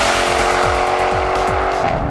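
Loud, close supercharged sports car engine with repeated falling pitch sweeps as gears shift upward, carrying a high supercharger whine over the roar.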